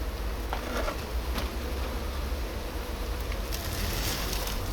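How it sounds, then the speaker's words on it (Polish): Wasps buzz steadily around a beehive where the keeper works a large-family, moderately productive bee line, a dense continuous drone with no talk over it. "A tak mnie wkurzają te osy"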